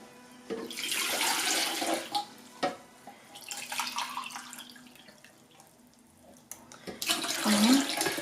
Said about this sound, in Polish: Dwie szklanki letniej wody, tak żebyśmy nie zabili drożdży.